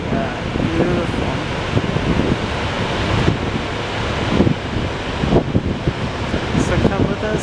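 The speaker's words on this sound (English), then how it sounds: "you can hear the water rushing" Water rushing at a large waterfall near a glacier in Norway, a loud, constant roar close by, mixed with gusts of wind buffeting the microphone.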